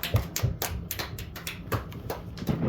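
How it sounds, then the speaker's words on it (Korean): A small church congregation claps in praise after a Sunday blessing, a thin, scattered patter of separate hand claps, fairly close, irregular and sparse rather than a full ovation. "우리 하나님께 영광의 박수 드립시다."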